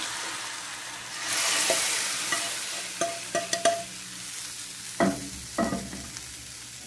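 Sambar being stirred in a pot for a hotel-style tiffin dish, a few soft scraping knocks of a spoon against the vessel over a faint sizzling background, close by and without talk.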